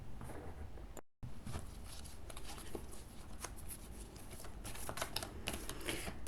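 Oracle cards being shuffled by hand, a steady papery riffle and patter running throughout with a brief dropout near the start, fairly quiet and close.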